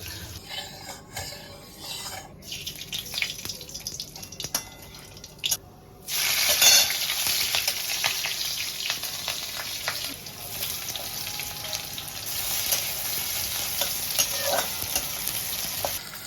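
Brinjal fries lightly in a pan for an eggplant and hilsa curry, a steady sizzle with stirring scrapes rising sharply partway through after a quieter stretch of kitchen clatter.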